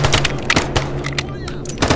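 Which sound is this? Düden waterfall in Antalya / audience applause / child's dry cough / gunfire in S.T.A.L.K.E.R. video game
gunfire in S.T.A.L.K.E.R. video game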